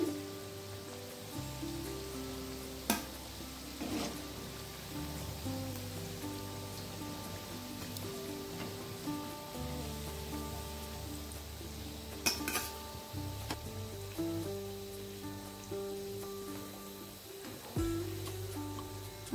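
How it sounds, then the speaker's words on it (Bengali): Khakra pitha frying in hot oil: a continuous crackling sizzle like steady rain, broken by occasional clinks and scrapes of a metal utensil against the pan. "আর একইভাবে আমি বাকি পিঠাটাও ভেজে নিচ্ছি"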